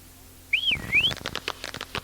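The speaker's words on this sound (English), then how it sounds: "I wish these witches wouldn't whistle in my shop." Witches whistling inside a shop: one rising and falling whistled glide, clear and fairly close, followed by a short burst of crackly, chattering sounds. The whole thing is brief.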